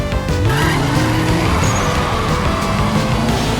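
Race cars launch at the start of a street race, with loud revving engines and squealing, skidding tires close by and continuous throughout.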